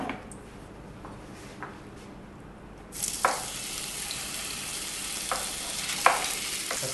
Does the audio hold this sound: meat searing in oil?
yes